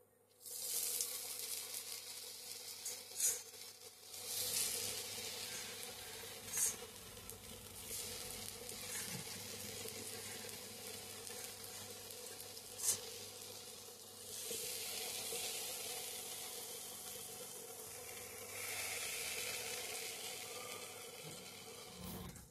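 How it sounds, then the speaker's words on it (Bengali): Eggplant slices frying in hot oil in a kadai, a steady, loud broadband sizzle that runs throughout with a few sharper crackling bursts and no voices. "তেল গরম হয়ে গেছে, এবার বেগুনগুলো দিয়ে দেব।"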